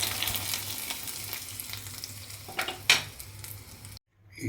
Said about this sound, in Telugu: ఉల్లిపాయ, ఆవాలు, జీలకర్ర, కరివేపాకుతోటి చక్కగా నెయ్యి పువ్వు పెట్టాలి.